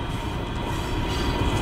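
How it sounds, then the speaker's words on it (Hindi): Locomotive engine in a train simulator game set in a rail yard during shunting, giving a steady, loud rumbling drone with rail rolling noise, continuous and even throughout with no talking. "wow nice engine sound"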